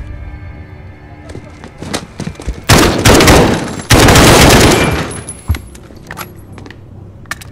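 Gunfire in Call of Duty Modern Warfare: scattered single shots build into two loud, dense bursts of automatic fire, then trail off into sporadic cracks and clatter.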